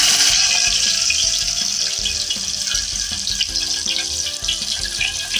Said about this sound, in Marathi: ठेचून घेतलेले लसूण टाकले.